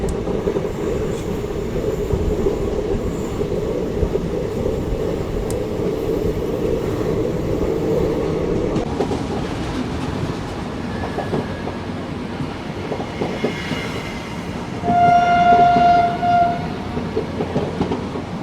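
An Indian express train on the Hyderabad–Chennai route rumbles steadily along with a constant rolling roar heard from inside the coach, and a horn sounds briefly near the end.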